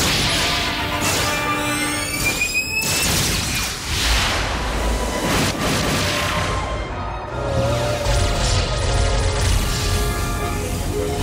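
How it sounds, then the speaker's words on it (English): Main cannons fire in the video game Xenosaga Episode 2, a series of loud booming blasts and crashing impacts layered over a dense battle soundscape. "fire main cannons."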